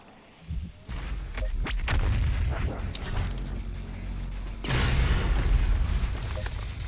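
The BFG 10,000 firing in Doom Eternal: deep, booming blasts and mechanical rumble build into a sustained roar, with a second heavy surge partway through, loud and dense.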